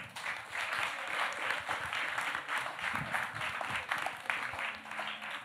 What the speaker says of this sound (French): un gros applaudissement pour Fly